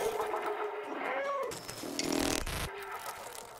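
A cat meows in the video game Stray, a short series of close, clear meows layered over a soft game ambience, with a brighter burst partway through.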